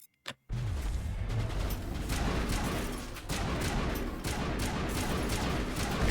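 Sustained gunfire in Mass Effect 1, rapid loud shots rattling almost continuously for several seconds after a brief opening blip, with explosive thuds mixed into the barrage.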